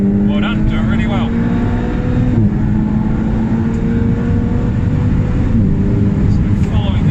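A 2018 Ferrari 488 Challenge race car on a New Zealand track accelerates with a loud, steady engine drone whose pitch slowly climbs. A voice briefly speaks over it at the start.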